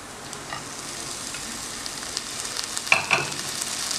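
Okra pieces dropped into sizzling masala in a pan, a steady soft fry hiss with a few sharper crackles and a burst of clatter near the end.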